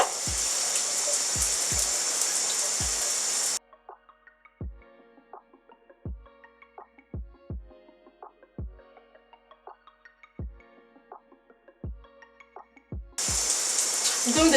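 Water runs steadily while apple cider vinegar is rinsed out of hair, a broad hiss that drops away into a quiet stretch of scattered dripping and soft taps before the flow returns loudly at the end.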